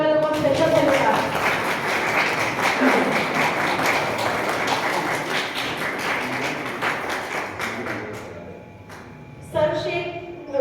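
An audience claps continuously at a yoga celebration on 26 January, a dense, even wash of applause that slowly thins out, with voices mixed in near the end.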